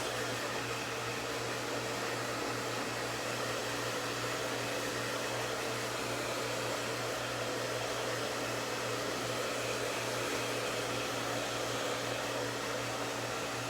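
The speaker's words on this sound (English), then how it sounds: "I'm just gonna dry it for you guys like a rough dry" A hair dryer runs steadily and close for the whole stretch, rough-drying freshly relaxed hair with a constant loud whooshing roar and an even motor hum underneath, with no talking.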